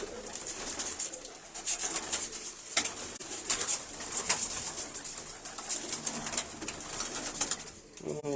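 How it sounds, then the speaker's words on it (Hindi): Pigeons offered for sale coo repeatedly in low, throaty rolls, close by, with a steady high-pitched background hiss and occasional soft rustles. "अच्छे कबूतर हैं।"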